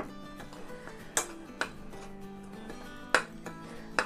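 A spoon mixing cornstarch, red chili, salt and garlic powder in a bowl, with a few faint, scattered clinks against the dish over a quiet background.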